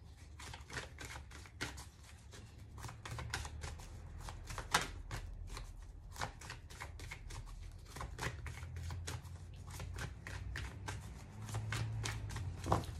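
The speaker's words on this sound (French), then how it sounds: "On va couper, on va mélanger parce que je sens pas les cartes sortir" Oracle cards being cut and shuffled by hand, with a steady run of crisp riffling snaps and slaps close by over a low room hum, and no talking.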